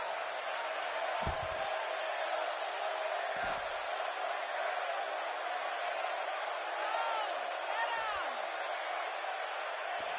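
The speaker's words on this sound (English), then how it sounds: "by the sound of this crowd" A wrestling arena crowd at a Roman Reigns vs Seth Rollins match roars in a constant loud wash of cheers and whoops, with a few low thuds breaking through the din.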